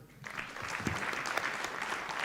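An assembly audience at a state governance session applauds steadily, a dense and even wash of many hands clapping throughout with no talk over it.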